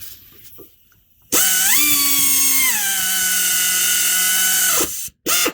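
An air ratchet runs down 12 mm and 14 mm crank pulley bolts on a 2008 Acura MDX, giving a loud, steady high-pitched whine for about three and a half seconds, then a brief sputter as it stops.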